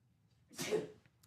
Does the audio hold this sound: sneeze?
yes